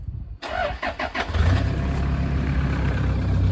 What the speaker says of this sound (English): Let's just start it up and see what it actually does.